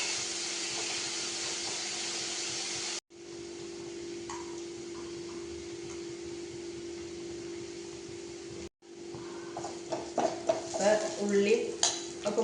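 Onions sautéing in oil in a pan for a lunch dish, a steady close sizzle with occasional stirring scrapes, louder spatters near the end.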